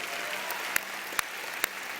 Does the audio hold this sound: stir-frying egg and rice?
no